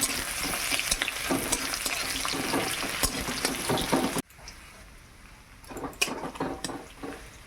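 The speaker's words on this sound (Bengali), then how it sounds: "পেঁয়াজ আর তেজপাতা দিয়ে দিলাম" Sliced onion and bay leaf hit hot oil that already holds caramelised sugar, giving a steady close sizzle with spoon scrapes and clinks against the pan, then a sudden drop to a quieter crackle with occasional stirring knocks.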